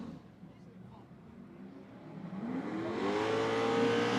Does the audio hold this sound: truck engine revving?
yes